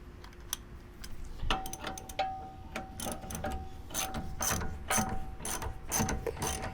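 A ratchet socket wrench is cranked in a steady run of close, sharp clicking bursts, with short pauses between strokes, and no one speaks.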